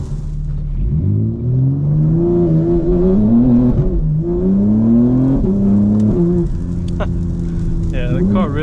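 A 2024 G82 BMW M4 Competition xDrive engine revs and pulls hard through rising tones, loud and close from the driver's seat, with a shift-like dip midway and a voice briefly over the end.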